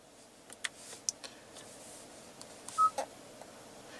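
Dial pad tones from the built-in infotainment system of a 2015 Kia Cadenza, a few short soft beeps and clicks spread out, then one clearer tone, over a quiet hiss.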